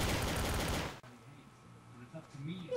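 Rapid automatic pistol fire in the Trouble in Terrorist Town game, a dense loud burst of shots lasting about a second, followed by quieter background noise and voices.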